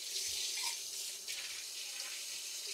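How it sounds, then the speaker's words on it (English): Tap water runs through a hose into the bottom of a still being cleaned, a soft, steady hiss and gush of flowing water, faint and continuous throughout. "take that hose and pump it through our bottom of our still and turn the water back on"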